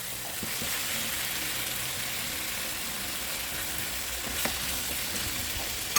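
Adobo simmering in coconut milk gives a steady, close sizzle and bubble that runs unbroken, with faint stirring scrapes now and then and a brief knock near the end.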